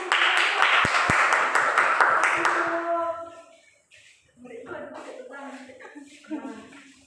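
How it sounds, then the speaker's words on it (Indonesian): A classroom group claps hands together during a lesson, a burst of fairly close clapping for about three seconds, then it stops and a voice carries on speaking. "tepuk tangan"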